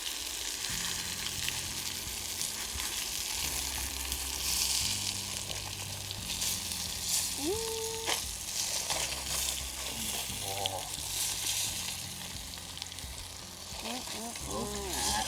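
Fresh-caught fish frying in a pan outdoors, a steady loud sizzle that runs throughout, with occasional stirring and people talking faintly in the background.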